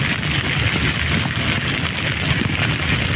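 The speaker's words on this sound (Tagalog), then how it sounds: "Lakas ang ulan." Heavy rain pours down steadily and loudly during a thunderstorm at night, a dense unbroken roar close by with no voices.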